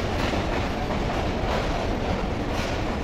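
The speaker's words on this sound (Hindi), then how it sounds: "हवेलियों से आई है ये ट्रेन जी, हवेलियों से। रुकने का नाम ही नहीं ले रही" A passenger train on the Green Line route between Karachi and Islamabad pulls into a station, giving a loud, steady rumble with faint clickety-clack from the wheels and no voices.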